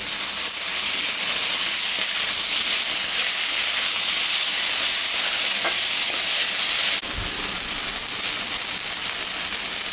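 Tomato added to frying potatoes for an aloo tarka, giving a loud, close and continuous hissing sizzle with steam, steady throughout with a faint clack near the middle, and no voices.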